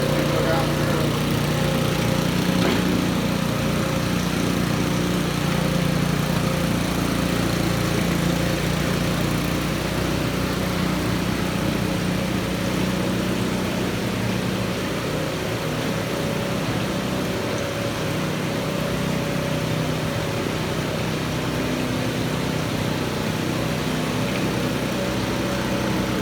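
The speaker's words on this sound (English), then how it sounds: "These use a 4-stroke leaf blower." Four-stroke leaf blower driving a fish hatchery feeder, a continuous droning engine roar that holds steady and fairly loud throughout, with a voice talking faintly beneath it.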